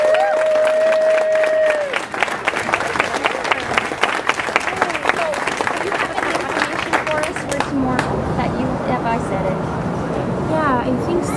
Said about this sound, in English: we owe a big round of applause to everybody